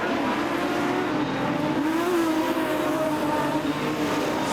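Production sedans race around the Kingaroy Speedway dirt oval, engines roaring together in a dense, sustained drone with a rising pitch sweep as cars pass, fairly loud and distant.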